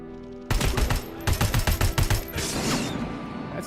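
Rapid bursts of video game gunfire, a loud cluster of sharp repeated shots followed by a rushing tail, with a faint voice in the background.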